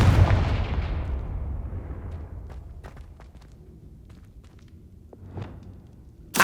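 A Confringo blasting spell detonates in Hogwarts Legacy with a loud, close explosive boom that decays into a long rumbling tail, followed by scattered faint debris clicks and a smaller thump near the end; no talking.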